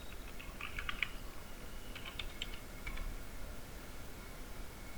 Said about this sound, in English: this is to open security and type your password here